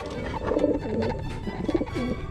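Racing pigeons coo in soft, repeated burbling phrases close by, with a faint bird chirp or two mixed into the steady, low murmur of the loft.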